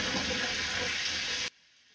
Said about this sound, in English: Some nice high mids from the tap water, some low mid gurgling in the drain.